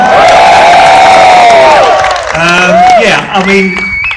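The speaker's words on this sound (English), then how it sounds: "let's have a big cheer for Puma for putting this event on." Audience at the Arsenal India Puma kit launch cheering and whooping loudly, with shouts and voices rising and falling near the microphone, some talking mixed in.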